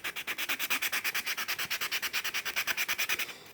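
Sandpaper worked steadily over a wooden surface to strip off stain and finish, a fast, even run of close rasping back-and-forth strokes, loud and alone.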